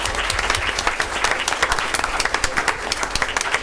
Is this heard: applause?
yes